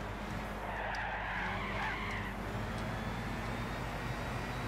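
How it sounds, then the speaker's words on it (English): A car drifts in Gran Turismo 6, its tires skidding in a sustained, loud screech over a steady engine drone throughout. "Little bit of drifting going on there."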